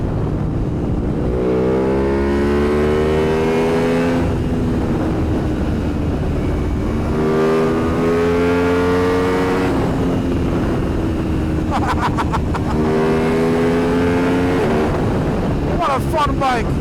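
An Aprilia RSV4 Factory sport motorcycle engine revs repeatedly, rising in pitch through the gears, falling back and climbing again. The sound is loud and close with heavy wind noise, as if recorded by the rider while riding.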